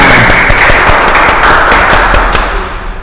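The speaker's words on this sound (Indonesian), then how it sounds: "Tepuk tangan." Applause from an audience at an Indonesian talk-show gathering on traditional sports, a dense steady wash of many hands clapping with scattered sharper claps, loud and close throughout.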